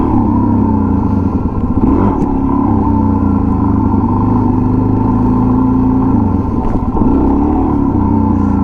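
A motorcycle engine runs steadily and loudly close by during wheelie practice, holding a low, even drone with only slight shifts in pitch and no talking.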